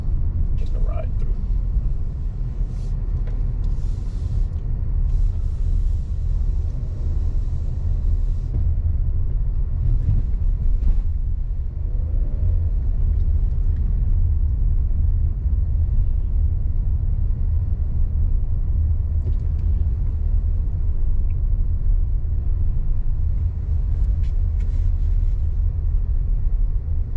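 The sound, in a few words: car driving through residential streets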